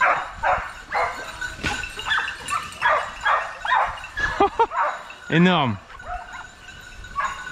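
Hunting dogs bark and yelp during a boar hunt, a string of repeated barks with whimpers and rising yips, fairly close, while someone speaks briefly in French.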